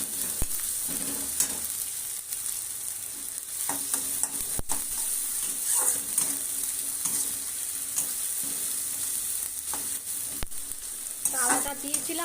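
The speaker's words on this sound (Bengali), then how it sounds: "আদাটা দিয়েছিলাম, আদাটা ভাজা হয়ে গেছে।" Ginger frying in a pan for an egg and eggplant curry, a low constant sizzle with intermittent stirring scrapes and clicks, quiet and close.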